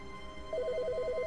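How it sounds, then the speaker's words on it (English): An in-game telephone rings in The Stanley Parable, a repeating electronic two-tone trill that starts partway through and continues steadily, fairly clear against a quiet background. "Answer the phone!"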